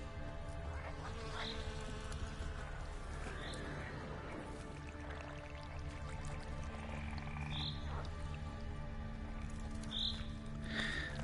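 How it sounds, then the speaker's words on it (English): Frogs croak in a steady ambient chorus within The Witcher 3 video game, with soft chirping calls popping up repeatedly over a constant low background hum. "Sounds lovely with all the frogs."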